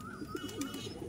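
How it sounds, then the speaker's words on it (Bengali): A Madrasi pigeon coos close by in soft, low, rhythmic pulses over about a second. "এগুলো সব ম্যাড্রাসি পেয়ার আছে"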